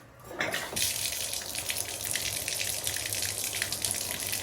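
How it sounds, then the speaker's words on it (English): Hot water gushes steadily from a tub faucet after a brief click, a continuous close splashing rush that keeps going without a pause. "So I'm going to go ahead and try to run some hot water."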